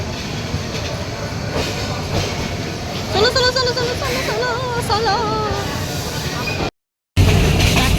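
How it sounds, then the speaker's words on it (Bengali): A train rumbles into a station at seven in the evening with a rising metallic squeal of wheels, while a voice calls out repeatedly over the clatter; the noise cuts briefly near the end. "এখন সন্ধ্যা সাতটা বাজে ট্রেন আসছে"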